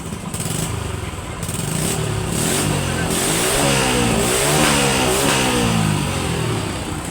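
A motorcycle with a fault that makes it stall after running a while; the engine runs loud and close, its rough idle rising into revving with a steady mechanical rattle throughout.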